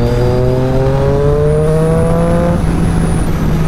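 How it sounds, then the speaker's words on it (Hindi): A Triumph Daytona 675R motorcycle with a Scorpion exhaust holds a loud, steady, close engine roar with rising pitch, then eases off slightly near the end. "बाइक से देखो कितने आवाज प्यारे वाले आ रहे हैं"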